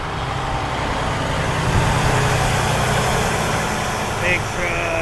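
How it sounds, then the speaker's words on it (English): A big truck drives past on a road, its engine a steady, loud broadband rumble and roar that holds evenly throughout, with a faint high squeal near the end. "The big truck."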